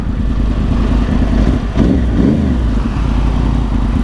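A 2010 Yamaha R1 1000cc motorcycle engine runs loud and close in a steady, rumbling drone with a brief dip and surge midway, no voices over it.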